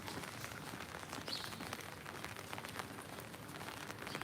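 Steady rain falls across the whole stretch, a dense even patter of drops on surfaces with no voices over it.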